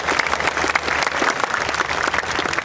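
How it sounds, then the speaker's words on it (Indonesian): Congregation applause at a revival service held in a sports hall, loud, dense clapping from a large crowd, steady and unbroken across the whole stretch. "Kita berikan tepuk tangan buat Tuhan"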